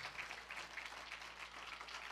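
A church congregation applauds during a sermon, a faint, distant, steady patter of many hands clapping without pause.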